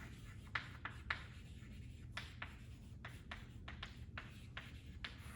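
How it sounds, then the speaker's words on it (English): Chalk or marker scratching out an equation on a board during a physics lecture on electrostatics, a quiet run of short strokes and taps in an irregular rhythm over a low room hum, no talking. "Let me write down the electrostatic"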